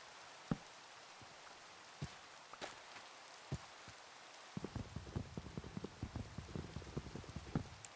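Soft rain falling, with scattered single drops tapping sharply at first, then a denser patter of drops on a surface, faint and close.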